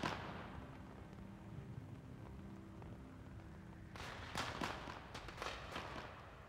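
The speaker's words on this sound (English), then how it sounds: "You gonna make out now? With the fireworks in the background?" Continuous rumbling crackle from fireworks in Metal Gear Solid 3: Snake Eater, with a cluster of sharper pops and bangs toward the end, steady and fairly dense throughout.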